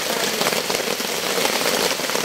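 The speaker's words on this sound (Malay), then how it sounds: "Hujan dah turun." Steady heavy rain drums on a shelter roof beside a small stream in a garden plot, a dense continuous patter close by with no break.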